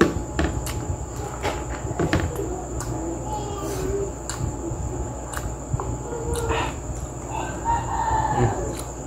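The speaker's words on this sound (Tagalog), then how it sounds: "Tumutunog yung manok." A rooster crows at night over a dense chorus of crickets and insects. Scattered clicks and rustles sound close by.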